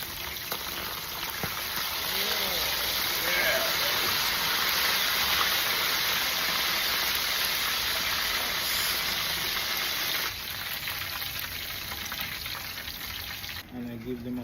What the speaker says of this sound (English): So I'm gonna fry my yucca now.